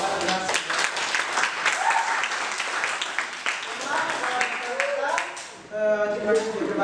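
A school class applauds at the end of an Indonesian-language lesson, with steady claps that fade near the end while voices talk over them.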